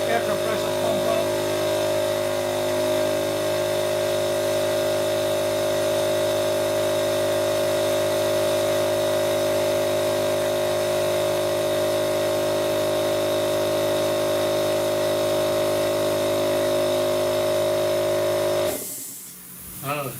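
An air compressor runs with a steady droning motor hum and pump whine, loud and unbroken for nearly twenty seconds in a car-repair setting, cutting off abruptly at the end.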